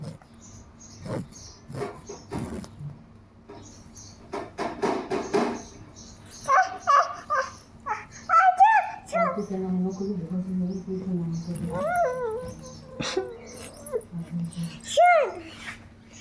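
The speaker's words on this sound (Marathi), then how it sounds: "कुत्रे" A dog whimpers and lets out a few sharp barks and yips, close by, mixed with high-pitched whining and some people talking around it.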